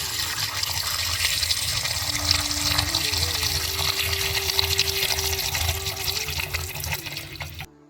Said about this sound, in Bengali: এখানে আমি মাংসটা ধুয়ে নিয়েছি ভালো করে পরিষ্কার করে।